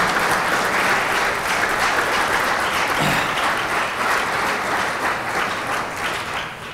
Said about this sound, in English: if you'll give them a round of applause for the vision